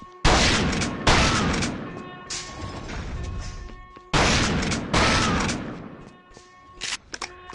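Shotgun blasts from The Thing Remaster, two heavy booming shots several seconds apart, each with a roaring decaying tail, plus a few smaller clatters near the end.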